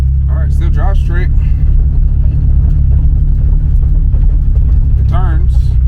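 A drift car on a slow test drive after a snapped ball joint was repaired gives a steady low engine rumble from inside the cabin, with someone talking briefly over it at the start and near the end.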